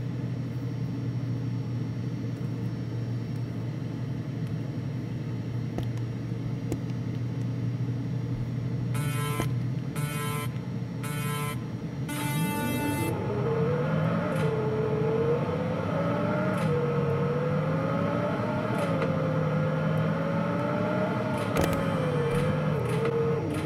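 Bugatti Mistral engine roaring through a quarter-mile drag race in Roblox Car Dealership Tycoon, a steady low idle hum that shifts into a rising revving whine as the car accelerates, with a few brief clicks partway through.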